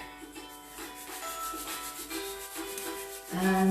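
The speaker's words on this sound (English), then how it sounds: "getting a little bit of the heat in your hands, rubbing your hands together." Hands rubbing briskly together during a self-care movement break, a steady close swishing friction in repeated strokes, ending in a louder rub.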